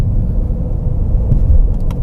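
A 2013 Honda Accord VTi-L engine pulls steadily under acceleration while shifted manually through the gears, a continuous low rumble heard from inside the cabin with no gaps, loud and even throughout.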